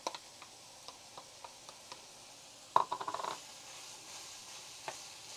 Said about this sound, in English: we're going to throw in our onions here